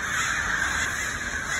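Crows caw repeatedly and close by, a loud, overlapping chorus of harsh calls after an eagle has killed one of them, with no speech.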